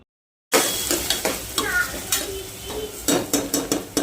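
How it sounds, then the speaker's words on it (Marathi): Finely chopped onions fry in oil in a pan for paya curry, a bright sizzling hiss after a brief silent start, broken by repeated spoon scrapes and metal clinks as they are stirred. "आता आपण त्याला तेलामध्ये फ्राय करून घेऊया"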